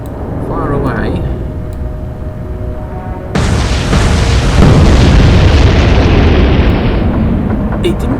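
Naval guns firing in the Atlantic Fleet naval battle game, a sudden massive boom followed by a long rolling, roaring blast that sustains and slowly fades, preceded by quieter ambient rumble.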